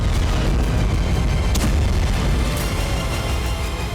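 A loud, deep missile strike explosion in the western Ukrainian city of Lviv, a heavy sustained rumble with a couple of sharp cracks breaking through, filling the whole stretch close and powerful.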